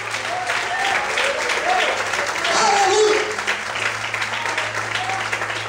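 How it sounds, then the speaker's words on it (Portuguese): A church congregation applauds in steady, moderately loud clapping while voices carry over it and a low hum runs beneath. "Vamos poder aplaudir e adorar o nome de Deus"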